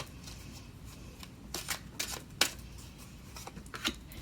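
Tarot cards being shuffled for a zodiac reading, heard as several quick papery riffles and flutters in short bursts, fairly close and quiet, with no voices.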